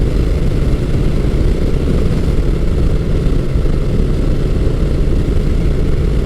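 A Honda Rebel 1100 T DCT motorcycle cruising on cruise control, its engine droning in a steady, loud, unbroken roar mixed with heavy wind rush and no talking.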